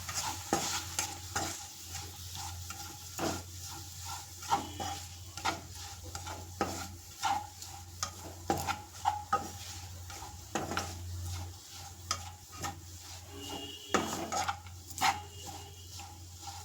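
Grated coconut stirred and fried in oil in a pan with onion, green chillies and curry leaves, for a bitter gourd palya: steady sizzling with repeated sharp scrapes and clicks of a spoon against the pan, close and continuous.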